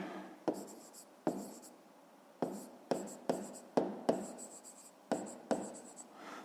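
Pen writing numbers on paper for a fifth-grade maths exercise, a series of close, quiet scratchy strokes separated by short pauses, with no talking.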